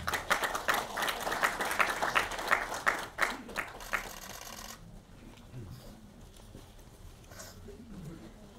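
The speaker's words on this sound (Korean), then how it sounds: "박수로 맞이해 주시기 바랍니다." An audience applauds a speaker at a Korean lecture event, with loud clapping for about five seconds that then stops abruptly, leaving quiet room noise with faint shuffling.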